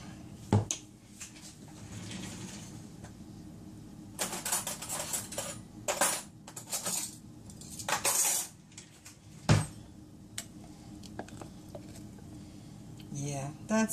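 A spoon scoops homemade hummus out of a container, giving irregular scraping and clinking bursts near the mic, with some talk in between.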